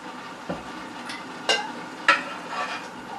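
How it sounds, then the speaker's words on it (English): Syrup is added to pumpkin pickles in a big pot, with a few distinct metallic clinks and scrapes of a spoon or ladle against the pot over a faint background hiss. "I'm going to add the syrup to the pickles."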